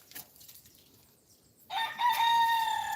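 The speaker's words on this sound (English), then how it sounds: "My roosters, too much of them, making too much noise." After a quiet stretch, a rooster on a homestead with several roosters bursts into a loud, close crow that holds steady to the end.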